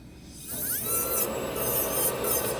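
A dental tooth model being ground with a lab tool: a steady close rasping grind with a high whine that climbs as the tool engages, continuous throughout with no talking.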